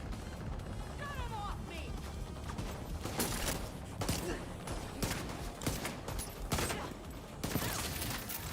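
Rapid gunfire and sharp impacts in The Division 2, a dense continuous barrage of shots and crashes running the whole stretch at moderate level, with someone talking over it.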